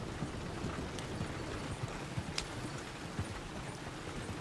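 Faint, rhythmic clip-clop of horse hooves on a hard road in Red Dead Redemption 2, a continuous trotting beat over a low background hiss.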